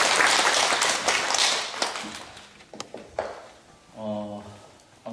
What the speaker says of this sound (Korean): 박수 한번 주시면 좋겠습니다.